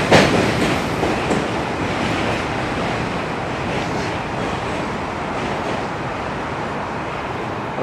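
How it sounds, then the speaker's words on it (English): An M subway train in New York rushes past, a loud roaring rumble with faint clatter that begins strong and slowly fades, with no voices. "Another M train just passed us by."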